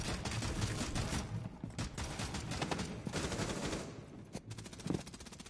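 Rapid video game gunfire in sustained machine-gun bursts, loud and close, with sharp individual shots near the end.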